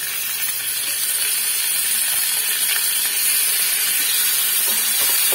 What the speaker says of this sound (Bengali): এবার এর মধ্যে চিংড়ি মাছগুলোকে আমি ভেজে নেব।